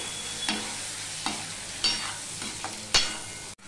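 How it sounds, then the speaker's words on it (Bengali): Ginger and green chillies stirred and sautéed in a pan for a vegetarian papaya curry, with a steady low sizzle and several distinct spatula scrapes and clinks spaced through the few seconds, fairly close. "দিয়ে ভালো করে কষিয়ে নেব আদাটাকে"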